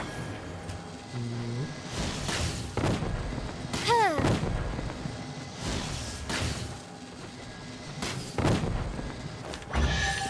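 Repeated heavy booms and blasts in Genshin Impact, several loud bursts spaced a few seconds apart over game sound effects and a brief voice.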